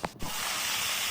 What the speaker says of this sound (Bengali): এবার চিংড়ি মাছগুলো ভাজবো।